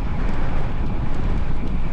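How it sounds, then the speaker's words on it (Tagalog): Crosswind buffeting the microphone on a long bicycle ride, a continuous loud low roar and flutter with no talking. "Hindi siya headwind, crosswind."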